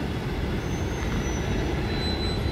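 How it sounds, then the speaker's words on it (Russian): An old ED4MK electric commuter train pulls out of Tyumen station with a constant, close rumble. Thin, faint wheel squeals ring above it, and no voices are heard. "И этот поезд разогнался."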